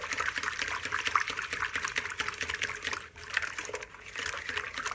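Water and warm milk poured into a glass for a simple brioche dough, a steady close trickling splash running for several seconds with a brief dip midway, no talk.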